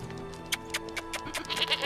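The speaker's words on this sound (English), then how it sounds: "Come on, goat." A goat bleats in a series of short, wavering calls, close and moderately loud, with a few quicker cries near the end and no talk over them.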